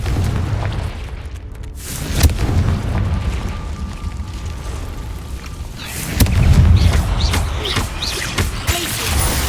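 Fiery Confringo spell blasts in Hogwarts Legacy on hard mode inside a cave, heavy booming bursts with a louder rumbling impact midway, set against a low ambient roar.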